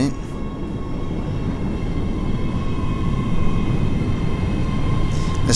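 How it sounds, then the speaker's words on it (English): A train pulls into a station in the Train Sim World 3 game, a steady low rumble with a faint tonal hum holding evenly throughout. "Another train coming in."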